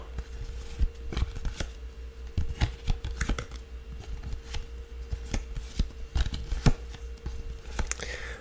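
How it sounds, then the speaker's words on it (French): Playing cards slid and shuffled about on a table during an ASMR card trick with the queen of spades, a run of close, crisp papery flicks and taps at an irregular rhythm. "je vais tout simplement faire se déplacer les cartes"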